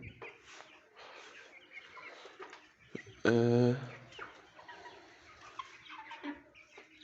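Hens cluck softly in the background, then one bird lets out a loud, drawn-out squawk before quieter clucking resumes; a voice murmurs briefly.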